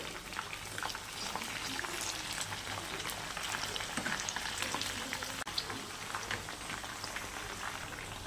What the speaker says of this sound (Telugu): ఒక పక్క ఫ్రై అయిపోయింది, ఇంకో పక్క కూడా ఫ్రై అయిపోతుంది.